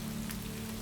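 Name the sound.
rain falling outside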